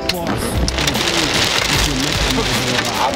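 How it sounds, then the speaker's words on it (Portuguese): Heavy rain pours steadily in a dense, continuous hiss, close and loud throughout with no pauses. "Rapaz, a chuva tá do sério aqui."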